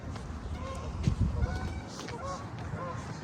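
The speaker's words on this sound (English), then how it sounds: "And the geese cross the street." Geese honk while crossing a street by a river, a few short nasal calls at moderate distance over outdoor background noise, with a person talking nearby.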